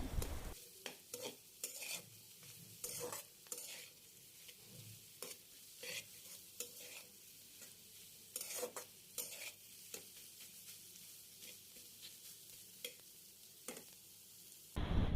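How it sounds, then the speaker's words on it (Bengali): Snake gourd and egg frying together in a pan with a soft sizzle underneath, repeatedly stirred with sharp spatula scrapes and clacks at an uneven rhythm, heard up close with no voices. "ডিমের সাথে এটাকে ভালো করে ভেজে নিব।"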